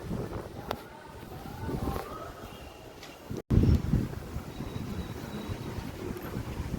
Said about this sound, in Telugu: ఇగో గాలి దుమారం అయితే ఎట్లా పెడుతుందో చూడండి